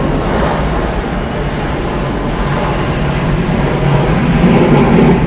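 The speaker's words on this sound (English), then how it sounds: "Departing Delta Airlines Flight 803, going to Cincinnati. It's a Boeing 737-8, 21 years old." A 21-year-old Delta Airlines Boeing 737-8 departing Atlanta Hartsfield-Jackson International Airport gives a broad, steady jet roar that fills the scene and grows slightly louder toward the end, with no voices.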